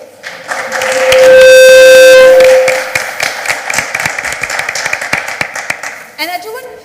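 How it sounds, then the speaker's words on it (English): An audience at a skills talk breaks into a round of applause, a dense wash of clapping with a sustained tone over it early on, then scattered claps tapering off before a voice briefly returns. "Can we give her a round of applause?"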